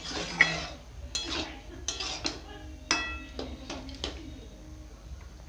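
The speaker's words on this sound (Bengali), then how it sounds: "তো ডালটা দিয়ে দিব এবারে।" Clinks and scrapes of a utensil against a pan as boiled lentils go into an egg tadka on a home stove, several short metallic knocks spaced irregularly over a low background hum, close and fairly quiet, with no talking.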